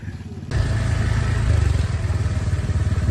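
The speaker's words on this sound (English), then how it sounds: "riding his first motorcycle" A habal-habal motorcycle taxi in Coron, Palawan, ridden by a first-time rider, starts up abruptly and runs with a loud, close, throbbing low engine rumble and faint clatter.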